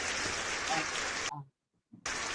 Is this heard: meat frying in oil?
no